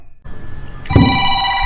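Smartphone placing an outgoing call, a short ringback tone starting after a brief pause and sounding loud and close with a faint voice underneath.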